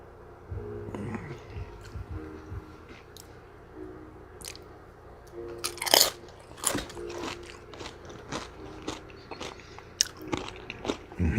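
A Flamin Hot Doritos nacho chip crunches loudly in repeated close bites and chews during a Costco hot dog mukbang, with crisp snaps scattered among softer chewing.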